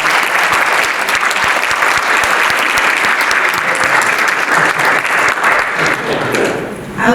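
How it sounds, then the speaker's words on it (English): A large audience applauds panelists after a panel discussion, with loud, sustained clapping that stays dense and even before tapering slightly at the end. "Please give the panelists a round of applause."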